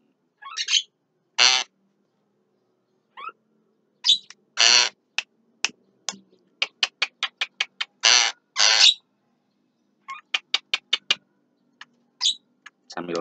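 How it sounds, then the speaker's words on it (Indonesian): A white-eyed Javan myna calls loudly and close by in the midday air, sending bursts of harsh squawks and rapid runs of sharp chattering clicks, separated by short silences. "Ini kebetulan burung jalak kebonya mata kuning ya, mata putih"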